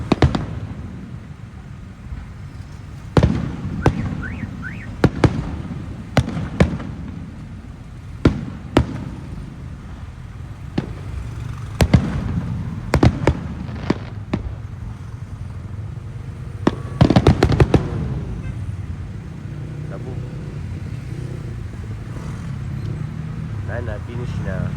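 A long fireworks display: a run of sharp, loud bangs and crackles at irregular intervals, some clustered in quick bursts, over a continuous crowd murmur and nearby chatter.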